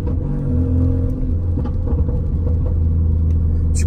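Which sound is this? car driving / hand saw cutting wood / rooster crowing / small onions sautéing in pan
car driving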